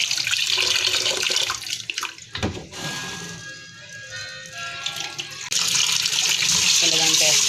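Tap water runs loudly into a sink while mung beans are washed. The rushing stream drops away to softer splashing and swirling in the middle, then comes back at full force.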